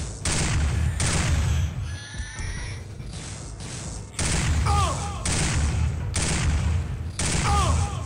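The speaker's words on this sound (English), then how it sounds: "I'm going to use a pistol" Pistol fire in the video game Turok 2: Seeds of Evil comes as several sharp, loud bursts spaced about a second apart, with game effects and brief creature cries between shots.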